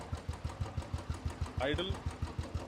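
A modified Royal Enfield Classic 350 motorcycle engine idles with a steady, rapid thumping rhythm, and a short voice sound cuts in briefly over it.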